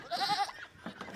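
A goat gives a short, wavering bleat close by, followed by faint farmyard shuffling.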